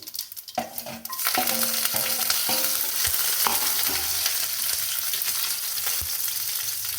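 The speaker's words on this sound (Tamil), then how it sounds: "கடுகு நல்லா பொரிஞ்சிருக்கு." Mustard seeds and cumin splutter in hot oil for a pirandai, curry leaf and garlic thokku: a sharp start, then a steady close sizzle dotted with scattered pops and crackles.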